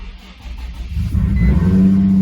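A Nissan 350Z engine cranking and catching after its fuel pump is primed, a low churning start that swells into a steady, loud idle at close range.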